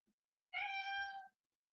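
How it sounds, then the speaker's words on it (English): A single house cat lets out a short, clear meow, alone and fairly close in an otherwise quiet room. "Oh, there's my cat. Oh, my cat's stuck."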